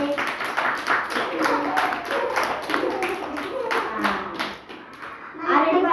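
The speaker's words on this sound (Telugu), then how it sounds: "క్లాప్స్ కొట్టండి మరొకసారి." Children in a classroom clap together in quick rhythmic bursts, close and fairly loud, with children's voices mixed in among the claps.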